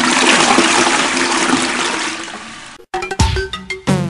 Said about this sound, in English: Down the toilet you go.